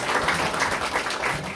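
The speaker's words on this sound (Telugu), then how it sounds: "గట్టిగా చప్పట్లు కొట్టి దేవుని వెంట." A church congregation claps loudly in a continuous, rhythmic wash of applause that holds steady throughout.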